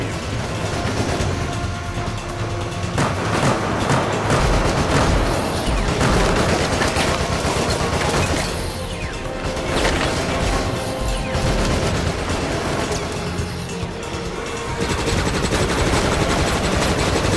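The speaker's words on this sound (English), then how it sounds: "Nemesis is shooting at me." Nonstop loud gunfire from Nemesis in Resident Evil: Operation Raccoon City, dense automatic bursts and crashing impacts filling the whole stretch with barely any pause.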